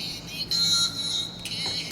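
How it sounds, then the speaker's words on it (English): A de-esser plugin in sidechain mode passes only the sibilant band of a sung vocal, leaving a thin, hissy, filtered sound that swells and fades with the singing. "Now if you put it in the sidechain mode, then you can hear the problematic frequencies."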